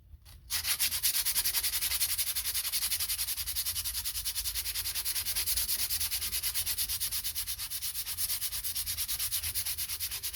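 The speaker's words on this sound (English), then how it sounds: "You'll see me rotating the wood as I'm sanding." Rapid, rhythmic sanding scratches against a wooden mattock handle being rotated, a steady rasping back-and-forth that starts abruptly and continues without pause, close and fairly loud.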